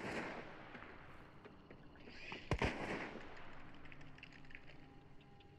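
A chaos bomb goes off in the game Hunt: Showdown: a sudden loud blast midway with crackling, firecracker-like bursts over a steady background rumble.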